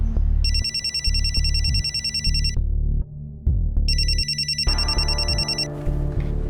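A phone rings with an incoming call, repeated bursts of bright electronic trilling with a pause between rings, loud and close over a thumping low background beat, with no one speaking.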